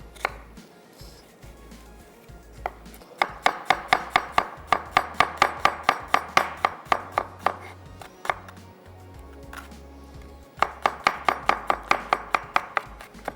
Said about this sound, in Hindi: तकरीबन 1 अदद जो है दरमियानी साइज़ की प्याज चॉप कर लेंगे।